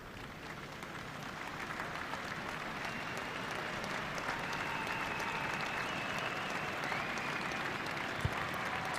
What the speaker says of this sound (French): Vous avez entendu quelques applaudissements